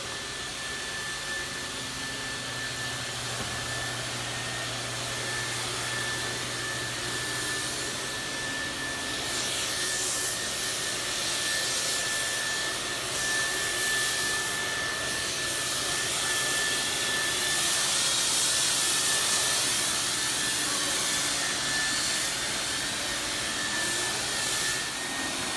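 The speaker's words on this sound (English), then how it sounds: "you have one technician fogging over here" A disinfectant fogging machine runs continuously at a steady, loud roar with a constant high whine over it, barely changing for the whole stretch.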